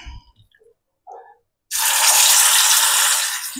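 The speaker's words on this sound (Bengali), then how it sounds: "তেলটা গরম হয়ে গেছে। এই তেলে আমি একটু পেঁয়াজ ভেজে তুলে রেখেছি, কখন কিভাবে ইউজ করব সবটাই তোমাদের সঙ্গে শেয়ার করব। এবারে দিয়ে দিচ্ছি চিকেনগুলো।" Chicken pieces drop into hot oil already used for frying onions, giving a sudden loud, sustained sizzling crackle after a few quiet clinks and taps.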